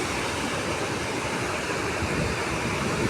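Water rushes out from beneath a dam shutter in a steady, loud, broadband roar that continues unbroken, with no voices over it.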